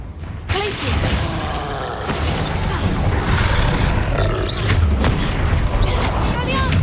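A Glacius freezing spell cast in Hogwarts Legacy lands as a loud, booming magical blast over a dense, rumbling battle soundscape. Strikes and impacts crowd together throughout.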